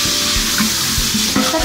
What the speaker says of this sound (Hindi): जब तक मेरे प्याज जो है वो ब्राउन हो रहे हैं